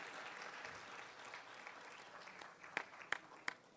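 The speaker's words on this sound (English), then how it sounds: "Y'all clap more." Faint, steady audience applause at a scholarship foundation ceremony, a soft wash of many hands clapping at a distance, with a few sharper, closer claps standing out near the end.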